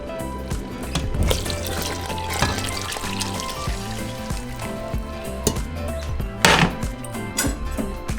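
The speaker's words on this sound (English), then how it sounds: "So I'm adding about 4 more cups of water." About four cups of water being poured into a pot of frijoles charros, splashing and gurgling with some sizzling and clinking of the pot, close by, no talk.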